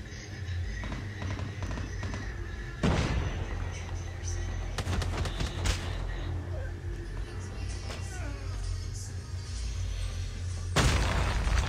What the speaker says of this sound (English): I shotgunned him like twice and he still lives.